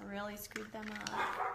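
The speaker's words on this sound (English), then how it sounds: "please excuse the barking" A dog barks in short bursts close by, indoors, under and between a woman's speech.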